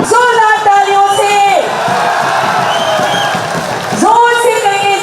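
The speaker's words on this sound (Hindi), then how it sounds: "जोरदार तालियों से" A crowd at a political rally for the Chief Minister roars and cheers loudly, with whoops and shouts swelling together; an amplified voice over a loudspeaker calls out at the start and again near the end.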